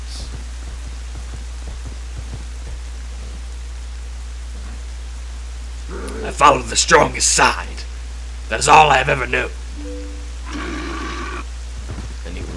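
Rain falls in The Legend of Zelda: Twilight Princess at Hyrule Castle, a steady, soft hiss of downpour running under the whole scene, while voices speak over it in the middle.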